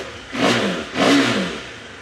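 A 2020 KTM Adventure 390 single-cylinder motorcycle revved twice at a dealership, two quick rising throttle blips close by, each fading back toward idle.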